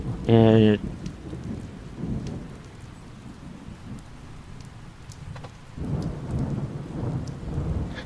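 Rain and thunder in the video game Bottle it Beverage Simulator: a loud, sharp burst right at the start, then steady rain hissing on through the rest, swelling again near the end.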